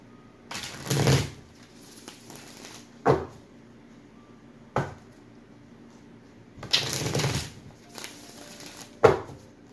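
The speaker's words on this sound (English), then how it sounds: "let me get these shuffles in" A deck of tarot cards being shuffled by hand, with several separate bursts of riffling and soft card slaps at irregular intervals, close and fairly quiet, and no talking.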